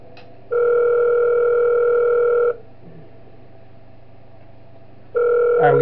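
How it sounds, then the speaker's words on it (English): A phone rings in the horror video game Five Nights At Wario's 3, two long steady electronic ring tones separated by a pause of quiet, loud and close with no talking. "Alright, we get a phone call?"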